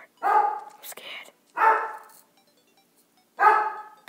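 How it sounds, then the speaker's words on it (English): A dog barks three times in loud, spaced bursts, close by, with quiet pauses between barks, in the game Terraria. "Barking really loud now."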